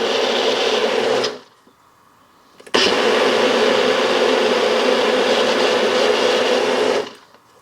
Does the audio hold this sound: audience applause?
no